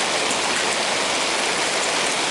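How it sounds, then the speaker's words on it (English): Rain falling at a lake during a carp fishing session, a dense, steady hiss of drops on water and surfaces, loud and close throughout with no voices. "wait till the rain dies down"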